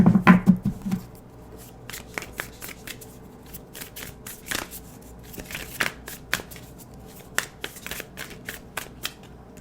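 Tarot cards being shuffled by hand: a run of quick, crisp riffling clicks and flicks in irregular bursts, close and fairly quiet, with no speech over it.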